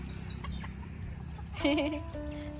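Farm chickens kept near rice fields in southern Laos cluck in a short burst over steady outdoor background noise, with a clear louder call from a bird close by midway through.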